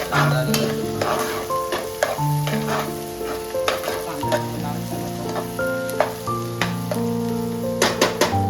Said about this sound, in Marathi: कांदा घेतला मस्त गरम झालाय लाल होईपर्यंत वाट बघायची